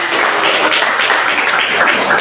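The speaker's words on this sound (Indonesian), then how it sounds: "Berikan tepuk tangan untuk kelompok" A classroom group in Palangka Raya receives applause after its presentation, a steady burst of clapping from many hands, loud and close, lasting throughout.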